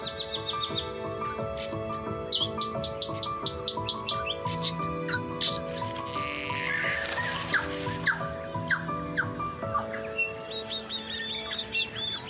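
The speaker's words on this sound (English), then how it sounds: "Morning on Little Barrier Island is a time of hectic activity and almost deafening song from dozens of bird species." A dense dawn chorus of dozens of bird species on forested Little Barrier Island, with overlapping whistles, repeated chirps, trills and squawks from near and far, lively and continuous.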